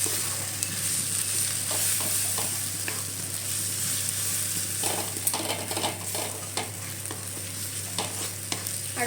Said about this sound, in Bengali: এবার এগুলোকে ভালো করে মিক্স করতে হবে।